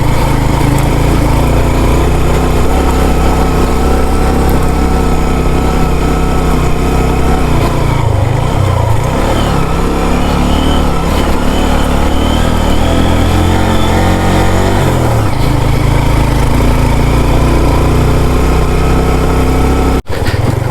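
A motorcycle carrying a pillion passenger climbs a hill held in first gear, its engine droning loud, steady and close throughout, with a brief dip in pitch midway and no talking.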